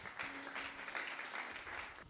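A church congregation at a French-language sermon bursts into applause: dense, continuous clapping from many hands that holds steady for about two seconds, with a faint voice mixed in.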